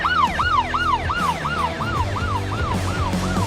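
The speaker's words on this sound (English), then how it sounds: "an unmarked Dodge Charger went chasing after the box truck with siren screaming" A police siren on an unmarked Dodge Charger in pursuit wails, sweeping up and down in rapid, repeated cycles, loud and close, over a low rumble of traffic.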